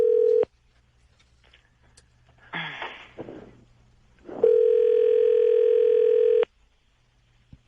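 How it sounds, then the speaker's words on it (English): A steady telephone dial tone at a single pitch, heard briefly at the start and then again as a loud, unbroken two-second stretch, with faint clicks and a short noisy burst between them and no talking. "there is our dial tone"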